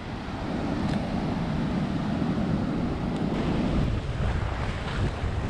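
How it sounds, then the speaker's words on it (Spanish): Big ocean waves at Barra da Lagoa beach in Florianópolis, Brazil, rolling in as a steady, loud surf roar, with heavy wind buffeting the microphone throughout. "Picado, hay unos olones por allá atrás."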